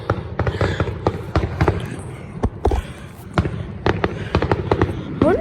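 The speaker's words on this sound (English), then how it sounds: "let's get back to the fireworks." A fireworks show bursts overhead in a rapid run of sharp, booming explosions and crackles, irregular and fairly loud, with occasional voices in between.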